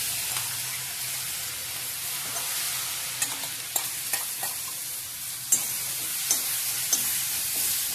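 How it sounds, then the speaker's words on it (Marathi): Ground masala with turmeric and curry leaves sautés in a pan for spinach bhaji, a steady close sizzle punctuated by repeated scraping stirs and taps of a spoon, with no talking. "आपला मसाला छान परतून झालेला आहे"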